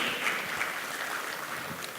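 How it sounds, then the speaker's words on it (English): A conference audience applauds panelists leaving the stage after a round-table discussion, a steady, moderately distant wash of clapping that holds evenly throughout. "A round of applause for our panelists as they make their way down."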